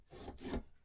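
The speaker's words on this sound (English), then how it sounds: "I'm going to take my bone folder and burnish" Bone folder burnishing a paper fold on a mini album cover: a brief close dry rubbing stroke, a short pause, then a second firmer rub that fades out.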